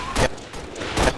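Gunfire bursts in a Halo Reach matchmaking game, two quick loud volleys about a second apart with noisy rumble between.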